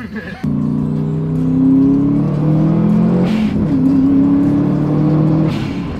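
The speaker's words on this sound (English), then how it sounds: "This car is so loud!" A slammed Subaru WRX engine revs and changes pitch while the car is driven, loud and close from inside, with brief surges of throttle.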